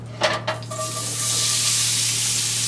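Onions and garlic hit a hot pan for beef stroganoff, starting with a few clattering knocks before a steady, loud sizzle of frying fills the rest, over a constant low stove hum.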